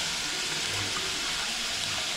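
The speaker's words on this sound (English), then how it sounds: "Already washed the rice. Let me wash it. I put the water." Tap water gushes steadily into a pot of rice being washed for dinner, a close, even hiss with no break and no voices.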